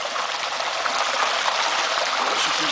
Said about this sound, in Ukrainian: звідти взагалі мізерна, мізерна частина тече води